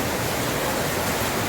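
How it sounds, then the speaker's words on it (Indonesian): Steady rain pours down as a dense, even hiss of broadband noise, loud and unbroken throughout the short stretch, with no voices. "Judulnya menunggu hujan reda"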